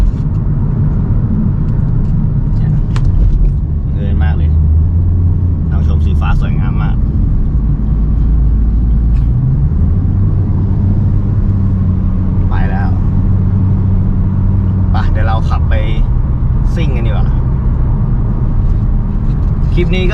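A 2014 Ford Mustang being driven, its engine a low steady rumble that swells and settles with throttle changes, running under someone talking throughout.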